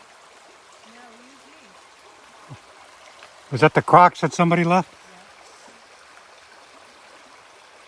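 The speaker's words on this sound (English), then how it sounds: "you got to wade through the water" A steady, faint wash of stream water flows where a hiking trail crosses a creek on the Appalachian Trail, with a short burst of nearby talking over it.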